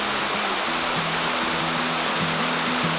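A river flowing beneath a bridge: a steady, rushing wash of water, loud and continuous, with a faint low hum running underneath.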